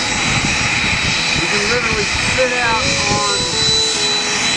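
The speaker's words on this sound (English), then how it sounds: "there's a Learjet getting ready to take off." A Learjet's jet engines run up as it readies for takeoff beside a patio near the runway, a loud, steady roar with a high whine while a person talks over it.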